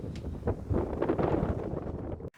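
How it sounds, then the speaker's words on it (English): Gusty wind buffeting a microphone at Dungeness, a rough low rumble with rustling bursts, fairly close, cutting off abruptly at the end. "It's windy and grey"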